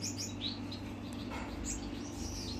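Gouldian finch chicks chirping in breeding boxes at a breeding room, small high tweets and calls scattered over a steady low hum, fairly faint and with no talk.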